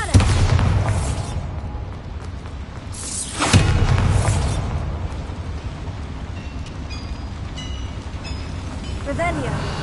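Bombarda exploding spell going off in Hogwarts Legacy: a loud rumbling blast at the start, a sharp burst around midway and a lingering roar with scattered game effects afterward.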